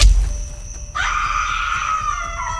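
A woman screams after being struck in the back by an arrow in a horror story setting. A loud, strained, drawn-out cry rises after a brief groan and holds steady to the end.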